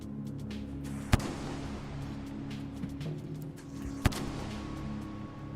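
Two sharp grenade blasts from the Rain World video game crack out about three seconds apart, each a brief bright burst over a steady low hum.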